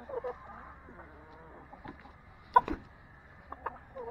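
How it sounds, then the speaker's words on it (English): Chickens in a backyard coop setup with meat birds and egg layers, giving scattered soft clucks and a couple of sharper squawks at close range over a quiet, steady background. "some meat chickens, we got some egg layers"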